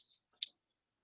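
Two quick clicks of keys being pressed on a calculator while entering an exponential and natural-log expression, faint and close, with no talk.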